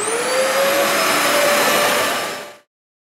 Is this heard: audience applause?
no